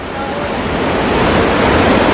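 Powerful waterfall in snowy Canadian winter, a loud, constant roaring rush of water up close with some wind buffeting the microphone, no voices heard.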